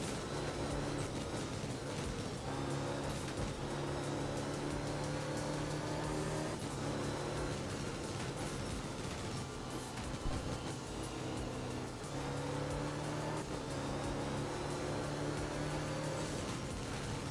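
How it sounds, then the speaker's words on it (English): Group A rally cars racing in the Art of Rally game, their engines a continuous buzzing drone that rises and shifts pitch with revs, steady and fairly quiet throughout. "those Group A cars in this game are so incredibly fast"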